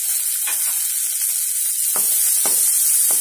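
Chopped onion, ginger and garlic sauté in a pan for a dosa filling, giving a steady bright sizzle with several sharp scraping stir strokes toward the end, close and alone without talk.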